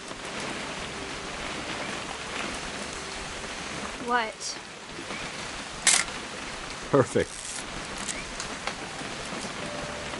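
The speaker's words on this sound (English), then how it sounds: "It's gonna rain the whole weekend, isn't it?" Steady rain hiss falls throughout a scene in the video game What Remains of Edith Finch, a broad constant wash with a few brief clicks and short spoken lines over it.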